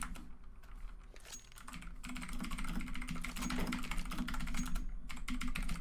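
Rapid clicking on a computer keyboard goes on steadily for several seconds at moderate volume over a low background hum, with no voices.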